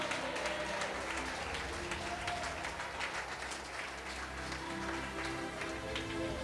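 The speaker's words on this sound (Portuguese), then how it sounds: "Bem forte as palmas para Jesus" Congregation clapping loudly in a church worship service, a dense continuous roar of palms with crowd noise and faint musical tones underneath, sustained for several seconds.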